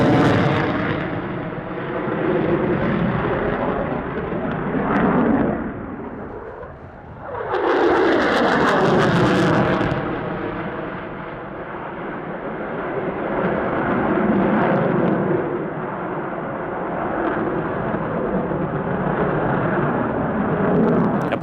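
A military jet roars past in a display pass at the RAAF Edinburgh Airshow with its weapons bay doors open, loud and sustained, rising to a peak mid-pass and then receding into a long rumbling wash.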